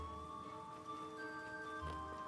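Steady rain falls in the video game Alabaster Dawn, heard as a continuous soft wash beneath sustained ambient musical tones, with no talking.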